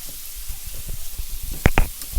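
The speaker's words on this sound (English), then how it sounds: "Boiling the water." A pot of water boiling for spaghetti bubbles and pops close by, with irregular soft blips building to a couple of sharper bursts near the end, over a faint background hiss and no talking.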